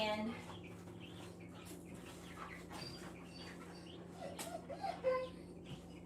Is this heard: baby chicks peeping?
yes